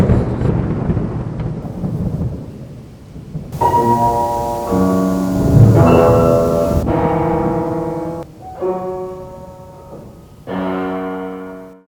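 Low rumbling thunder rolls at first, then loud ringing piano-like chords sound and fade one after another.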